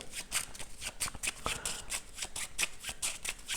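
Tarot cards are shuffled and flicked down in quick, crisp bursts, a steady patter of papery snaps close by.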